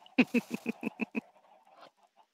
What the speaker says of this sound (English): I have a chicken on my ceiling. It's a rooster.